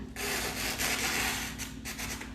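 A coarse, scratchy tearing rasp as a blade drags roughly through paper, close and steady for a couple of seconds, with no voices.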